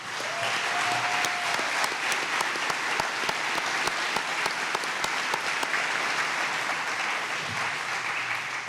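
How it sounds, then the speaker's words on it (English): Steady, continuous applause from a room at a Phoenix Suns rookie press conference, even dense clapping throughout with camera shutter clicks ticking over it and no talking. "I'd like to stand and give these guys an acknowledgement and a round of applause"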